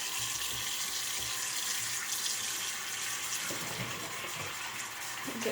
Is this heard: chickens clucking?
no